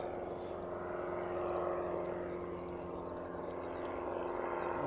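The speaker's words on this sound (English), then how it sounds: "I think that's one of the Aero Club" A small Aero Club propeller aircraft climbs out near Christchurch International Airport. Its engine drone is steady and moderately distant, with no other sounds.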